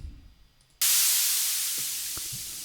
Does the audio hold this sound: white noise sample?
yes